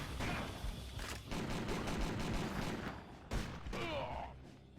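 A powerful shotgun fires in the action video game Dead to Rights: Reckoning: a dense string of loud, close blasts and booms, with brief gaps between bursts and a faint voice now and then underneath.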